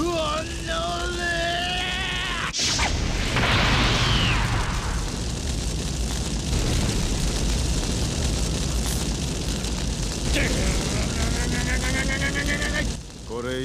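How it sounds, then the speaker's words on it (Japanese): Loud cartoon explosion in the One Piece anime: a sharp burst followed by a long roaring, crackling rumble that fills most of the stretch, with brief animated voices before and after. "すげえ、爆発した。"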